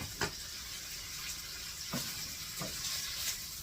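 Sausages fry in olive oil in a pan with a steady, soft sizzle, punctuated by a few brief louder pops or spits spread through the few seconds.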